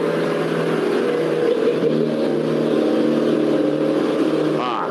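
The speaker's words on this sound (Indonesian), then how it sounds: "biar truknya lewat dulu" A truck rumbles past close by, its loud engine drone holding steady for several seconds before fading at the end.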